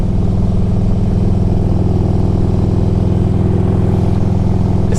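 A 2004 Harley-Davidson Electra Glide Ultra Classic FLHTCUI cruising on the road, its engine giving a steady, loud low rumble with wind noise throughout and no pauses.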